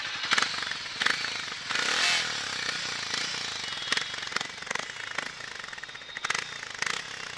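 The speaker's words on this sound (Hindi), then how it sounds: "ये था एग्जॉस्ट नॉट जो कि मुझे काफ़ी प्यारा लगा" Hero Mavrick 440 motorcycle engine started and revved close by, a loud, rough exhaust rumble rising and falling in sharp throttle blips throughout.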